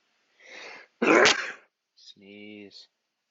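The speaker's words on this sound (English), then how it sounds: "Sneeze." A single person sneezes up close with a breathy inhale, a sharp explosive burst and a trailing exhale, followed by a short voiced sound.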